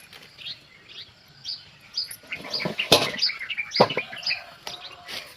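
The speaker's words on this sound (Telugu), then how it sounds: "పక్షులు చూసారు ఎంత శబ్దం చేస్తున్నాయి" A mix of birds chirps and calls around a home garden, with bursts of wing flapping and rustling, the calls scattered and fairly close, rising busier toward the middle.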